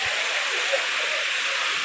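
A waterfall in Alluri district pours in a steady, even hiss of falling water, constant and moderately loud throughout, with no talking.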